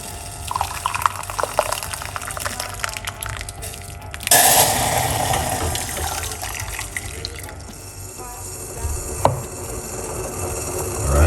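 Hot water pours from a kettle into a cup while making tea, a steady splashing stream that grows louder and fuller midway, with light clinks of the cup and no talking.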